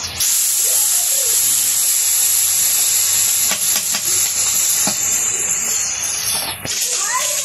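Mola fish coated in turmeric, chili, salt, onion and green chili sizzle and hiss loudly in hot oil for a village chorchori, a steady spitting fry that runs throughout with faint background voices.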